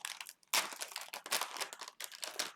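Crinkly plastic snack-bag packaging from a Universal Yums box is scrunched and torn open in several close, loud bursts separated by brief pauses.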